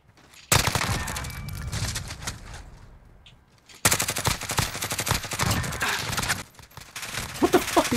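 Automatic gunfire in Call of Duty Modern Warfare, Search and Destroy mode: two long, loud sustained bursts of rapid shots with short gaps, followed by scattered quieter shots.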